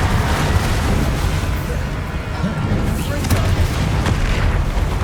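Confringo blasting-curse explosions in the Hogwarts Legacy video game, a dense run of booming spell blasts and bursts layered over continuous combat noise and game effects, loud and sustained for the whole stretch.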